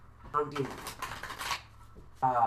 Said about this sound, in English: while I'm shuffling here for a moment